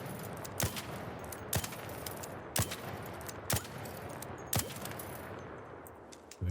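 Six separate gunshots from a weapon in ARC Raiders, evenly spaced about a second apart, each a sharp, loud crack over a steady low background hum with no speech.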